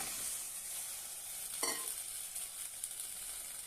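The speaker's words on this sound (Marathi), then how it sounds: "एक कढई ठेवलेली आहे त्यामध्ये शेवगा घालूया" Peeled, cut drumsticks dropped into a hot kadhai, a continuous close sizzle with a sharp burst of crackle midway as pieces hit the oil, then steady spitting.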